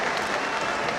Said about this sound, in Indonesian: Tepuk tangan untuk Bapak Gubernur.